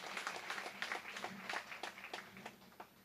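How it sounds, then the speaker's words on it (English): Scattered hand clapping from a small group, fairly faint and uneven, with individual claps standing out in an irregular rhythm. "So let us give a mighty hand clap."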